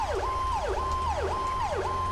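In GTA5, a big fire engine's siren wails in a repeating rise-and-fall pattern, close and continuous above a deep motor rumble, with no voices.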